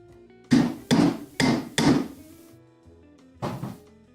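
Mallet-struck chisel cutting wood while building a Japanese sawhorse: four sharp, evenly spaced thumping blows in quick succession, a pause, then one more strike, close and alone.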